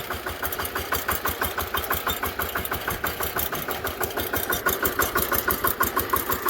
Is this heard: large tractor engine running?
yes